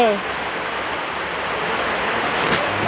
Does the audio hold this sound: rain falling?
yes